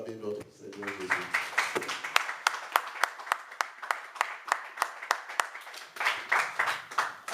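A church congregation applauds together, a steady rhythmic clapping at a regular beat that continues for several seconds after a brief spoken line at the start.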